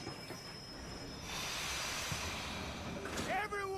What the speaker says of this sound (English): Train's coming in.